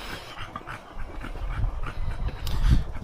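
A French bulldog pants steadily at close range, with soft whimpers breaking through now and then and rougher low breathing toward the end, and no talk over it.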